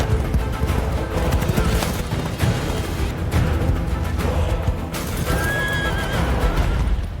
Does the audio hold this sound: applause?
no